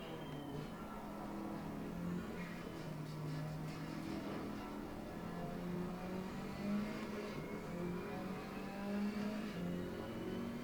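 A race car engine in Assetto Corsa Competizione on PS5 revs hard and steadily, rising in pitch through gear changes, loud and continuous with no talking.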